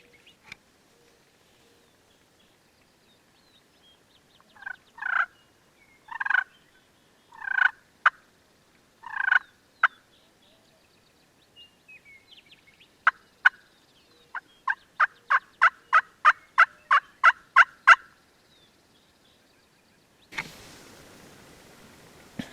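Young wild jakes gobble and yelp in the Black Hills of South Dakota during spring, a series of rapid rattling calls from close range, then a quick run of sharp clucks, before a brief rustle at the end.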